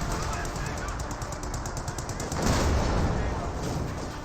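In the Company of Heroes 2 Spearhead mod, sustained rapid gunfire rattles in even bursts, and a heavier blast swells about midway before the firing continues, loud and dense throughout.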